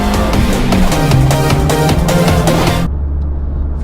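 A manual-transmission car engine floored, roaring loud and close with a climbing, harmonic-rich pitch for nearly three seconds before abruptly dropping off to a low idle-like hum.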